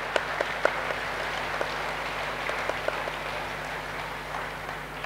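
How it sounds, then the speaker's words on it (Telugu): Steady applause from an audience at a meditation talk on Buddhi Yogam, a dense even patter of clapping with a few sharper individual claps standing out, fairly distant and moderate in level throughout. "ఒక్కసారి ధ్యానానికి మరి గట్టిగా మనం చప్పట్లు కొట్టుకుందాం"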